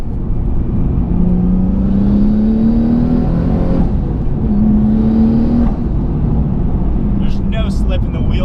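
Twin-turbo Nissan 370Z NISMO making about 650 whp, floored at full throttle from inside the cabin, with a loud steady engine drone rising in two long pulls broken by a brief gear shift, while a person talks over it.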